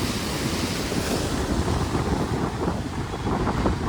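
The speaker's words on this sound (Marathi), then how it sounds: "मोठ्या मोठ्या लाटा आहेत ना" Ocean waves at Marine Drive, Mumbai, surge and crash in a continuous rolling roar, with wind buffeting the microphone, no one speaking.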